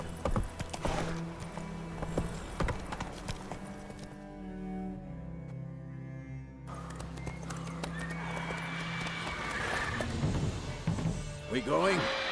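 Horse hooves clip-clopping and a whinny in the video game The Witcher 3, with repeated hoof strikes, game music and a brief near-silent gap mid-clip before the gallop resumes.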